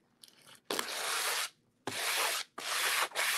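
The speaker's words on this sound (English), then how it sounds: "I'm just going to start sanding away" Three long passes of sandpaper scraping back and forth, close and loud, with brief pauses between strokes.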